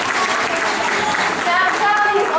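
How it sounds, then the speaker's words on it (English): Audience applause at a bird show at Flamingo Land, steady crowd clapping throughout with a few whistle-like tones, with some mixed voices and cheering. "give us a clap for that guy, that was brilliant."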